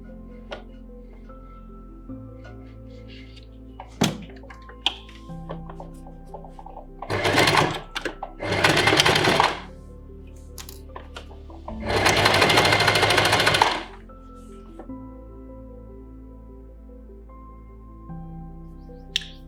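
A sewing machine stitches 1 mm from a folded fabric edge in three bursts, the last one the longest, with quiet pauses and small handling clicks in between.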